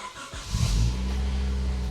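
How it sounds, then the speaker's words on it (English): A Honda Civic EJ2 cold-starts, heard from behind at the exhaust. A short crank catches into a loud, steady idle with a deep, thick rumble that holds close to the microphone. "Just want to get a cold start from the exhaust."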